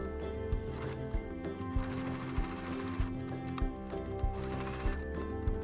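Electric sewing machine stitching a leaf outline in light brown thread on autumn wreath decor, a steady close mechanical whir with regular ticking needle strokes running throughout.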